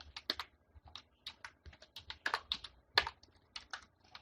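Code typed on a computer keyboard, rapid uneven bursts of close, crisp key clicks with short pauses between, no talking.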